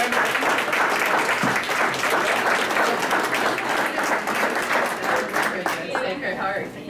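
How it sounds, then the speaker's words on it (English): A council meeting audience gives a round of applause: dense, steady clapping from many hands fills the room for about seven seconds, then thins slightly toward the end. "let's give her a round of applause."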